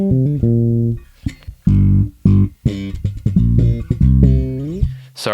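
Bass guitar runs through a Darkglass Anagram with the limiter and compressor pushed hard. It plays a loud, punchy metal riff of short, heavy, low notes and slides with very even volume, no voices.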